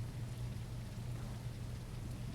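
Constant rainfall in the game The Isle Evrima, a dense, even hiss with a low rumble beneath. It holds at a steady moderate level throughout, with no talking.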